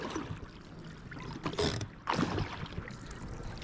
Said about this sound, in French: on est dans le bateau, on fait un tour de bateau